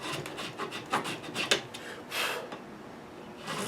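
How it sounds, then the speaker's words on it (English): A very thin saw blade, about 10 thou kerf, rasps across the center of a Les Paul guitar's original nut in short irregular strokes, close up and fairly quiet, with no one talking. "So I'm starting with a very thin blade, a 10 thou kerf, and I'm going to chase a center line"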